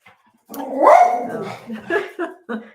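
A dog barks and growls at close range in a short burst of yaps and a drawn-out growling bark, with people talking over and between the barks.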